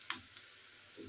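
Chopped onion sautéing in a pan for a moringa leaf stir-fry, a faint steady sizzle with a couple of brief stirring scrapes, quiet and close, no talking.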